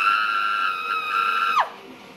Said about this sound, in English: That was a man scream.